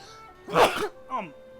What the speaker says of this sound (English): Whew, I had to sneeze there real bad